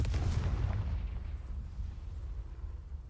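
A Confringo fire blast spell cast in the Hogwarts Legacy video game gives a loud, deep, booming burst that rumbles and slowly fades over a few seconds, with no talking.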